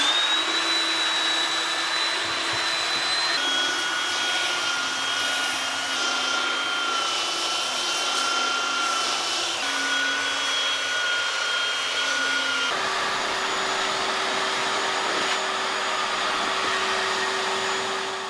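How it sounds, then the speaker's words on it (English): A belt sander runs continuously up close, sanding down humps at the joints of a subfloor before flooring is laid, its steady motor whine stepping slightly in pitch now and then without pause. "So we're gonna take this belt sander, we're gonna sand them down."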